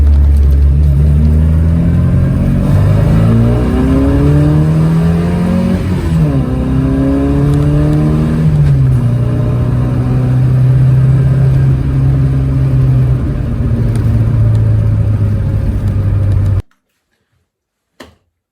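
A Classic Mini's engine drones loudly from inside the car while driving in second gear, revving up and easing off in smooth pitch sweeps before cutting abruptly to silence.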